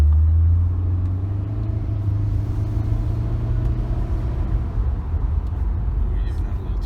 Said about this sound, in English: You even had a little turbo noise.